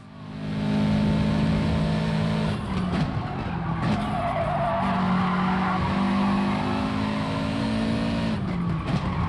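A Subaru WRX race car in Gran Turismo Sport, racing the Lago Maggiore Centre II reverse circuit, holds a loud, steady engine drone with brief dips at gear shifts and a tire skid squeal running underneath.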